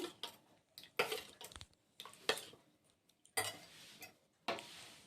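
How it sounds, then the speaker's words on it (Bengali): Batter for patisapta being stirred together with saffron milk in a bowl, a run of irregular clinking scrapes and taps from the utensil against the bowl, coming in short bursts with brief pauses, close and fairly quiet with no talking. "ওর মধ্যে আমি আরও দু হাতা ব্যাটার দিয়ে দিলাম খুব বেশি আমার লাগবে না তা দু হাতা দিলাম দেখো দিয়ে সুন্দর করে মিশিয়ে নিচ্ছি"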